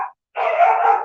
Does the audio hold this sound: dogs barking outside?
yes